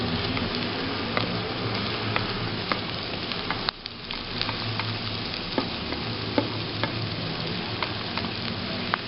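Tomatoes frying with brain masala in a karahi, a loud steady sizzle with scattered crackles and a brief stir or clatter partway through, no voices.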